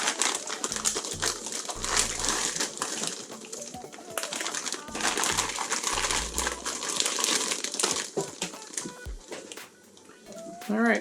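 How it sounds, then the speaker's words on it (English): Plastic bags of parts from a Tekno ET410.2 competition truggy kit crinkle and rustle in bursts as they are handled, with clicks and taps of parts between the bursts and a person talking throughout. "we'll just start grabbing some bags here"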